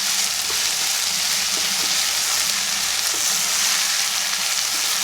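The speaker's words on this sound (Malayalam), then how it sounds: "കറിവേപ്പില ഉള്ളി ഇതെല്ലാം കൂടെ ഇപ്പോൾ നല്ലോണം മിക്സായി വന്നിട്ടുണ്ട്." Beef frying in a pan with curry leaves and onion, a steady close sizzle with occasional stirring scrapes, no voices.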